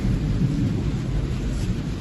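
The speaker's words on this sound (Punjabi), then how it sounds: "ਲਓ ਜੀ ਮੀਂਹ ਪੈਣਾ ਸਟਾਰਟ ਹੋ ਗਿਆ ਪੂਰਾ ਮੀਂਹ ਚੱਲ ਪਿਆ ਉਰੇ ਤਾਂ ਗਰਜ ਰਿਹਾ ਮਾਰੋ ਮਾਰ" A deep, steady rumble of thunder rolls under a continuous wash of heavy rain, with no voices.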